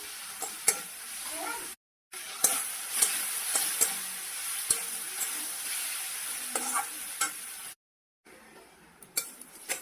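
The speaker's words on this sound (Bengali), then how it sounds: "এখানে পেঁয়াজটা আমি ভাজতে দিয়ে দিয়েছি" Onions frying in a pan while a fish curry is being made. A continuous hiss runs throughout, with a utensil clinking and scraping at intervals, and it cuts out completely twice for brief moments.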